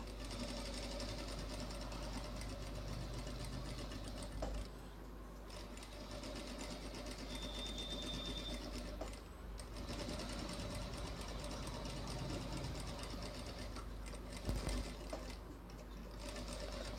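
A sewing machine stitches a designer blouse in a continuous, fairly quiet whir that runs steadily with a few brief dips and slowdowns.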